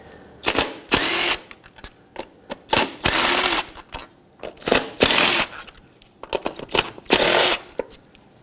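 Bolts on the ignition coil pack of a 1997-2006 Jeep Wrangler 2.4L engine are loosened with a 10mm socket, sounding as repeated loud, bright bursts of ratcheting and tool whirring, close up, separated by short pauses.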